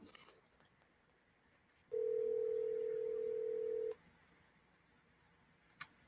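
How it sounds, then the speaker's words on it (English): An outgoing telephone call rings back with a single steady two-second tone over an otherwise quiet line, followed by a faint click. "Oh, it's ringing. This is the first time I heard it ring."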